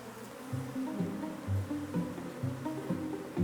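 A mass of honey bees from a hive in an old shed drones in a thick, steady, close buzz, with pitch swelling and shifting as the swarm moves.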